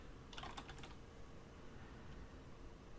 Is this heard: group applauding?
no